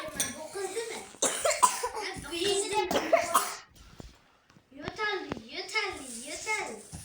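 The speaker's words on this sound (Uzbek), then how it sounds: "Yo'tal." A child coughs several times at close range, mixed in with children's chatter and some laughter around the coughs.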